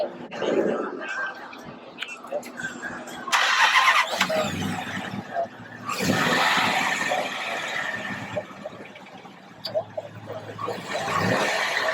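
A Mopar car's engine runs with a medium rumble as the car pulls out of a car club gathering, the revs rising and falling across the stretch, with people talking nearby over it.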